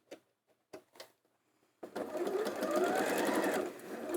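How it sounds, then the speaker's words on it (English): Sewing machine stitching a Y-shaped seam, starting after a few soft clicks and handling sounds, then running at a steady close whir that rises slightly in speed and holds for a couple of seconds. "and let's sew"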